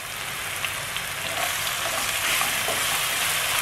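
Lemongrass, bay leaves and lime leaves sauté in a pan for Papuan yellow fish soup, giving a steady, even sizzle with light crackling throughout and no talking.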